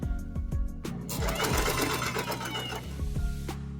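A sewing machine fitted with a twin needle stitches a cargo skirt in contrasting thread. A few short bursts come first, then a steady, close, mechanical whirring run of stitching that clatters to a stop.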